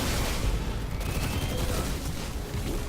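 Dense, continuous SMG gunfire from the video game Destiny 2, rapid and loud, forming a steady rattling wash of shots from start to finish with no voices.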